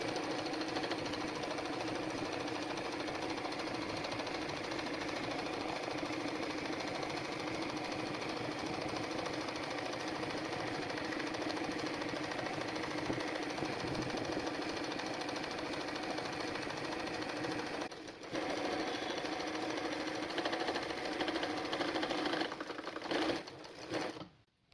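A sewing machine runs steadily while stitching running-stitch embroidery onto a saree pallu, a dense continuous whirring drone close by, briefly pausing near the end, with no talking.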